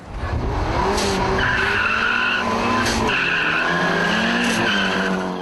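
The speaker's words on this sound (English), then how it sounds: "After another even start, the Tirana suffers some wheel spin." A Toyota Celica and a Holden Torana launch at a drag start, and the Torana's wheels spin with a steady tyre squeal over close, loud engine noise for a few seconds.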